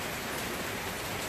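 Heavy rain from Hurricane Irma pours steadily in the countryside of Mayagüez, Puerto Rico, a dense, even hiss of falling water with no pauses.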